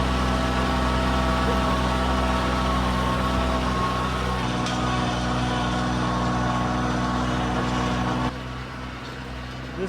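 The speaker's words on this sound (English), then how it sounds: "This is officially the furthest this tractor's been driving down the road." Tractor driving along a road, a steady droning engine hum with constant mechanical tone, moderately loud and close, easing slightly toward the end, no talking.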